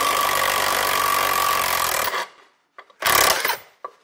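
A DINSHARE cordless impact wrench runs in reverse, backing a screw out of wood: a steady, loud whirring drive for about two seconds, then a short second burst after a pause, heard alone.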